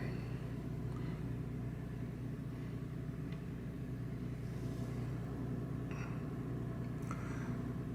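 A Toyota 4Runner idling while warming up on a snowy winter day, a faint steady low rumble with a few small clicks and rustles over it.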